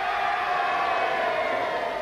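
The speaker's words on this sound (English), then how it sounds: "I think they deserve a louder cheer than that." A crowd at a 1982 It's a Knockout team games contest cheers for the Ross-on-Wye team, a steady, fairly loud wash of voices that holds evenly throughout.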